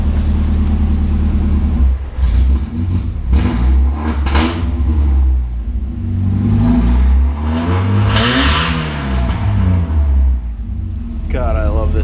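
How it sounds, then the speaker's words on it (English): Engine of a Jeep revving and accelerating hard, a loud continuous rumble with rising and falling pitch sweeps, close up, with people talking over it. "See if we can hit that gas."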